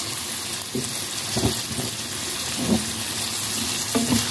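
Ingredients for Ilocano-style pinakbet sauté in a pan with a low, steady sizzle, broken by a few soft scrapes and stirring knocks. No one speaks.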